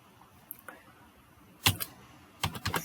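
Computer keyboard keys clack as a search is typed, with a few scattered taps and then two quick bursts of rapid keystrokes, close and clear, no talking over them.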